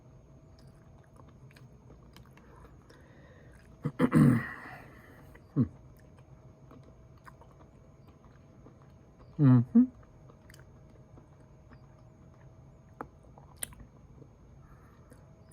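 Someone chewing Iberia squid in ink sauce, with two bursts of close, moist mouth sounds and a few small clicks set in near-silence, plus a brief murmur.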